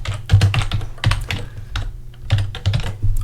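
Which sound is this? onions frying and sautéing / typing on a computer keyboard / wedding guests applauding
typing on a computer keyboard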